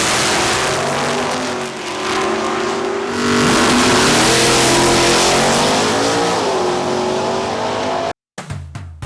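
A street-class Ford on street tires with mufflers only revs hard and loud at a Fun Ford Weekend meet, engine pitch rising and falling through several pulls before cutting off abruptly.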